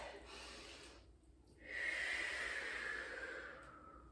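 Close, quiet breathing during a recovery stretch: a soft exhale, a short pause, then a long hissing breath that fades out slowly, with no talk.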